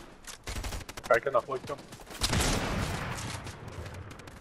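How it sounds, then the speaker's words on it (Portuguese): Rapid bursts of gunfire crackle in Fortnite, then a heavier sustained blast rolls out, while someone talks over the first half. "Escutando tiro agora"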